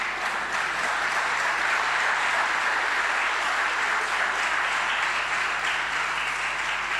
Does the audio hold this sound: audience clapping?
yes